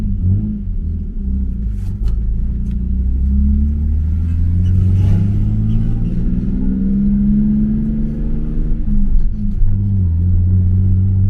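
Lexus SC300 with a muffler delete heard from inside while driving at night: a steady, fairly loud low exhaust drone with rising and falling engine pitch as it accelerates, no talking.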